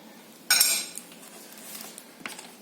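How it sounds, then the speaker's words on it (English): A tablespoon scoops soft, roasted eggplant into a bowl for baba ghanoush, making one sharp metallic scrape and clink, then a few faint light taps, close and with no talking. "with a tablespoon, just peel it into a bowl or dish"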